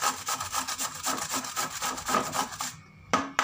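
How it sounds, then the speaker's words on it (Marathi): Fresh washed cucumber rubbed by hand over a grater in a home kitchen, a rapid rhythmic rasping scrape repeating steadily for a few seconds, close and fairly quiet, ending with a couple of clacks. "आता ही काकडी मी किसून घेते, स्वच्छ धुऊन ही काकडी किसून घेते मी।"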